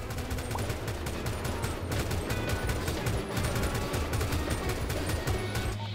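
Rapid gunfire from the video game GTA 5 during a role-play police chase, with dense repeated shots and bursts filling the whole stretch, loud and steady throughout.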